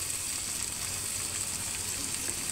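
Onions frying in oil in a wok for a duck meat curry, a steady close hiss of sizzling that runs evenly throughout with no talk.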